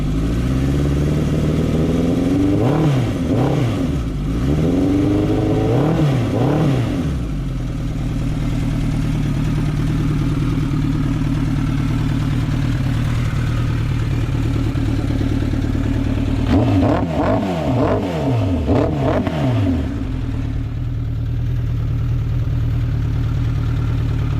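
Restored 1986 Suzuki GSX-R1100 motorcycle idling with a steady rumble, then revved in sharp bursts, two early blips and a longer flurry later, loud and close, with no talking.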